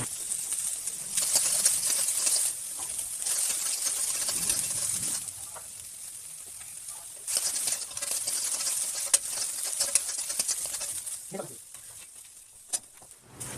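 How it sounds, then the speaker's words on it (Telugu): Onion and ginger-garlic paste fry in oil in a pot on the stove, giving a bright hissing sizzle that swells and fades as a spoon stirs and scrapes, with occasional knocks. "పొయ్యి మీద గిన్నెలో తగినంత ఆయిల్, ఆనియన్, అల్లం వెల్లుల్లి పేస్ట్ వేసి కలుపుకోవాలి."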